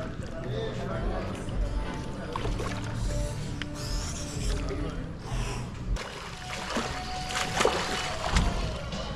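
Splashing water as someone lowers into a cold resort swimming pool in Lonavala, irregular sloshes and splashes with gasps and breathing close by over about nine seconds.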